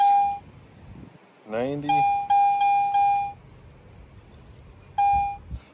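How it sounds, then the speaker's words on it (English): A metal detector sweeps over a buried target in a park and gives a choppy signal: several short, clear, high electronic tones in quick bursts, with a pause and then one more tone, while someone speaks briefly between them. "Got a little choppy signal here."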